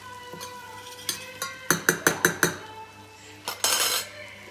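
Spoon stirring and scraping sweet red pepper flakes into a mixture for yogurt meatball soup, with a run of sharp metal clinks against a pot or bowl near the middle and a louder scrape near the end.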